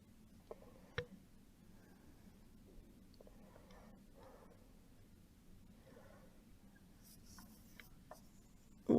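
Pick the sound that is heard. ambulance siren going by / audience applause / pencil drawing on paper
pencil drawing on paper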